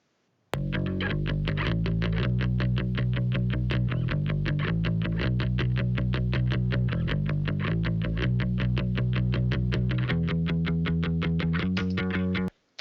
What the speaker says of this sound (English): Let me play a little bit of the bass.